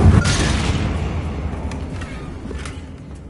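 A Confringo blasting curse explodes in Hogwarts Legacy, a loud booming burst that opens the moment and then rolls off into a long, rumbling decay.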